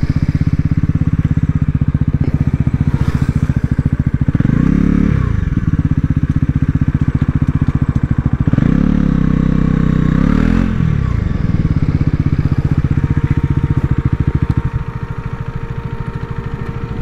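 A Bajaj NS400 and a Husqvarna Vitpilen 250 race in a drag run, engines roaring loudly and continuously up close, with pitch swooping through repeated gear changes before easing off toward the end.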